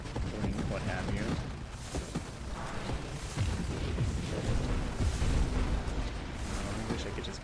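Explosions in the space shooter Nova Drift, a dense run of booming blasts and crackling bursts that overlap in a rough, fairly steady barrage at moderate level.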